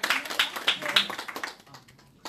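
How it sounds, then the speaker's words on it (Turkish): A short burst of clapping from a small group of people, quick and fairly close, dying away after about a second and a half. "O zaman bir alkış."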